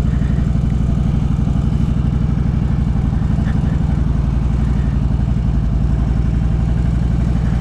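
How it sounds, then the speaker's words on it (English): A motorcycle engine idles in a drive-thru lane with a steady, loud, close low-pitched thrum and rapid even pulsing, running continuously without talk. "I've never gone through a drive-thru on a motorcycle before."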